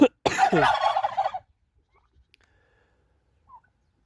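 Turkeys gobble outdoors in winter frost, a loud burst of rapid rattling gobbles up close that breaks off after about a second, followed by near silence with a faint distant call.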